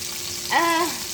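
Thin burger patties fry in a pan on medium heat, producing a steady, fairly loud sizzle, with a short stretch of a voice over it.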